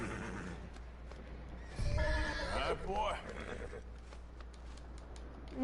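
A horse whinnies once loudly in the middle, with a thud of hooves, while someone talks calmly before and after, in the video game Red Dead Redemption 2.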